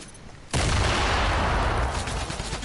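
A heavy sniper rifle in an anti-gravity video game cracks out with a sudden loud blast, then a sustained, rumbling roar that slowly fades, with no talking.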